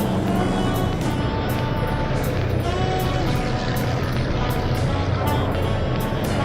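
Vintage 1948 race cars roar along the front stretch in a loud, steady, unbroken wash of engine noise, with faint repeated passes rising and falling through the blur.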